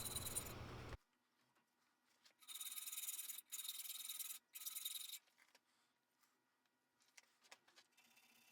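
Metal filing on a small forged Nuremberg box, a small chainsaw file worked into a curved radius: an opening broadband burst, then two long bright rasping strokes with a short gap, fading to faint light scraping and taps.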